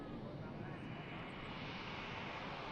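An airliner climbs out after takeoff at Manchester Airport as its main and nose landing gear retract, a steady, loud broadband jet roar that fills the whole stretch without easing.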